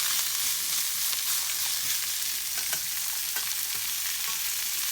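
A pork chop fries in a pan with a steady close sizzle, broken by a few soft knocks and scrapes as it is flipped and pressed down.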